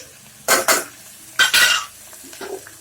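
Garlic and crushed ginger drop into a hot pan of tomatoes while cooking banana stem soup, bringing short bursts of sizzling and spoon stirring against the pan, two pairs of loud close strokes and then quieter scraping.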